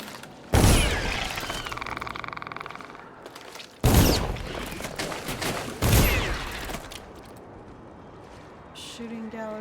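Gunfire in a shooter video game comes in three loud bursts of sustained rapid shots, each cut off abruptly, with a quieter mechanical rattle between them and a brief tone at the end.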